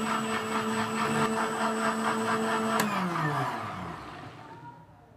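A blender grinds bananas into a milkshake with a steady, loud motor whine, then the motor switches off and spins down, fading to quiet over the last couple of seconds.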